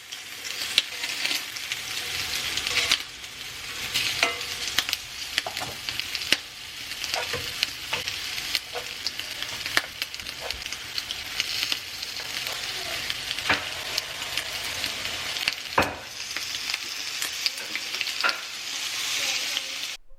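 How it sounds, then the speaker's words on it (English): Beef burger patties sizzle steadily in a pan on the stove, a continuous close crackle and hiss with occasional sharper pops and scraping sounds, with no talking. "Cooking the beef patties on one side before flipping them over."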